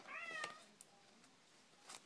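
A pet cat gives a short, faint meow indoors, followed by a few soft, quiet clicks and rustles.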